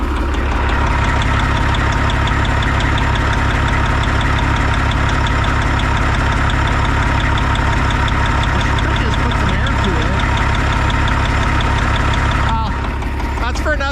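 A Kenworth cabover truck's diesel engine idles steadily with the throttle bumped up, a loud, even low rumble with a regular mechanical clatter running throughout, easing off briefly near the end.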